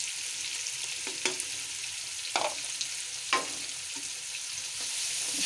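Spices fry with potato and eggplant for aloo baingan, giving a steady close sizzle. A spoon scrapes through the pan in several distinct strokes spaced about a second apart, with no talking.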